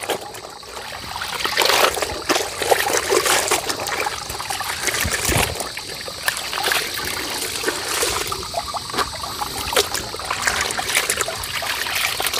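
Water trickles and dribbles steadily from a punctured container in a remote village, a close, continuous splashing stream with small irregular splashes throughout.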